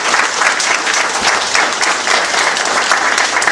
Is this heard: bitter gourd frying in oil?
no